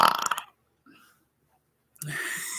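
A single low burp rumbles briefly in a quiet gap between bursts of talk.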